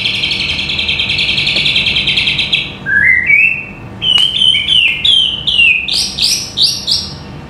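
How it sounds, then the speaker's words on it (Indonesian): A white-rumped shama sings loudly and close by, first a steady high buzzing trill, then a varied run of sharp whistled phrases and chirps. "ini murai batu terkuat yang ada di kota Kretek guys"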